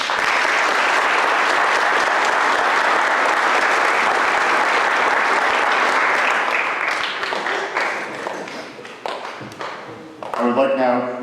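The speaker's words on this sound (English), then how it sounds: "Please give yourself a well-deserved round of applause." A graduation audience in a school auditorium bursts into dense, sustained applause for about seven seconds, then thins into scattered, tapering claps, with a voice briefly heard near the end.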